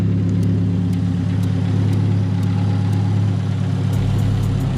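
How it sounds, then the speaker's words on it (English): A 2018 Subaru WRX engine idles steadily nearby, a continuous low rumble with a faint rise in tone near the end and no voices. "I got the car running."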